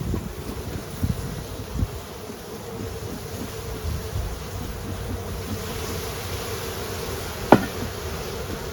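Honeybees at an open hive on a warm 55°F day make a soft, continuous buzzing drone over faint wind, with one sharp knock near the end.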